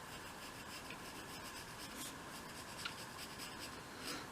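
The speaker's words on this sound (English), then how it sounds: "and then I'm just going to use a nice sharp pencil" A sharp pencil traces around the edge of a cut-out piece for a 1/12 scale model shop, giving a soft, steady scratching rub that runs unbroken under a quiet background.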